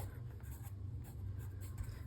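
Pen or pencil writing the date in a sketchbook, soft continuous scratching strokes on paper, faint and close against a low background hum.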